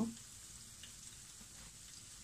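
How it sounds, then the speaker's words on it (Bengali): An egg and gram flour snack fries in a pan until browned, giving a soft, even sizzle that stays faint and steady throughout. "আমরা এটা ব্রাউন করে ভেজে নিব।"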